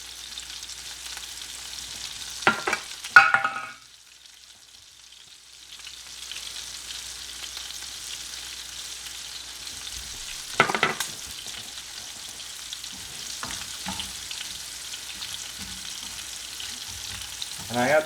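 Garlic butter shrimp frying in a pan on their second side, giving a steady moderate sizzle throughout with a few brief louder clatters of utensils or flipping.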